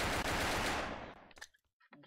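A gun in the block-built shooter Brick Force fires a loud, dense burst lasting about a second, then fades into a few scattered softer reports.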